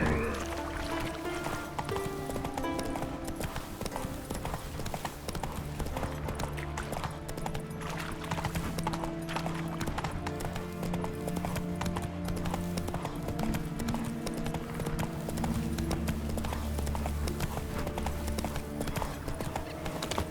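Horse hooves clip-clop steadily at a gallop in the fantasy role-playing game The Witcher 3, with loud, continuous hoofbeats layered over game music throughout.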